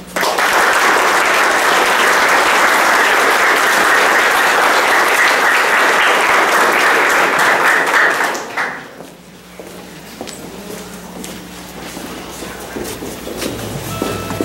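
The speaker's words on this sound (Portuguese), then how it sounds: "Uma salva de palmas." A church congregation bursts into loud, sustained applause during Mass that cuts off sharply after about eight seconds, leaving quiet room tone with faint tones and taps.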